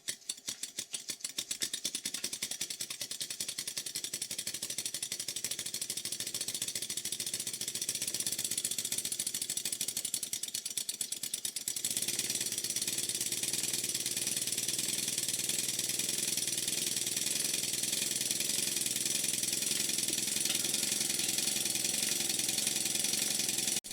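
A small model steam engine running on compressed air chuffs in a rapid, even mechanical rhythm, with a constant hissing of air running underneath, steady and close for the whole stretch.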